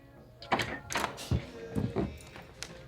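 A door shuts in a Sopranos scene, giving a few dull thunks spread over about three seconds at moderate level, with no talking over them.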